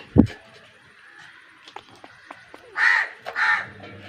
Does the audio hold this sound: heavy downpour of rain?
no